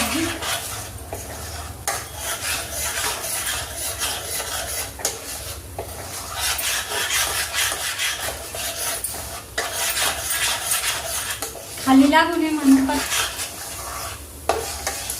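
A spoon stirs and scrapes continuously through a thickening, water-free mixture in a hot pan for a steamed fasting snack, producing a close, steady rasping swish.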